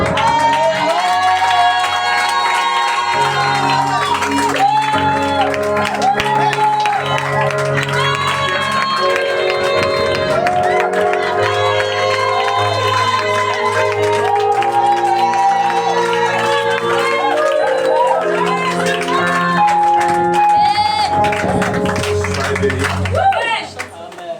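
A church congregation loudly acclaiming the Lord, with clapping, cheering and crowd noise that continue throughout, layered with loud music.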